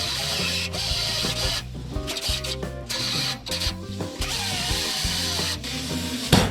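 Metal piece being cut off the tailgate of a 1949 Jeep Willys pickup, giving a loud, continuous mechanical whine that shifts in pitch with brief dips, heard close and alone.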